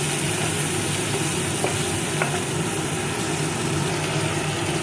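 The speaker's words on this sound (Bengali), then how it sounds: "এবার এখানে একটা ছোটো সাইজের টমেটো টুকরো করে দিয়ে দিচ্ছি। টমেটোটাকে ভেজে নেব।" Small tomato pieces sizzle in hot oil on a low flame while potato curry is being cooked, giving a steady, even frying hiss throughout with a couple of faint clicks and no talking.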